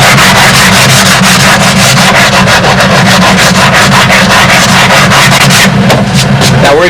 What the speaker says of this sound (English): I'll take the last little bit off by hand with a sanding block